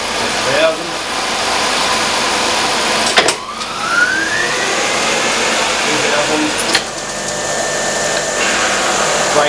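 A Holbrook C10 toolroom lathe with a two-speed clutch and base gearbox runs with a steady, close machine whir, and a rising tone sweeps up as the speed shifts partway through.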